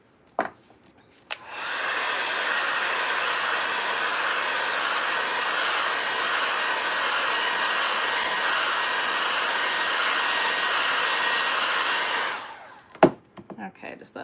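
Hair dryer or heat gun blowing hot air onto craft material for Easter egg décor, a steady whooshing hum held for about ten seconds at close range, switched on and off with clicks at either end.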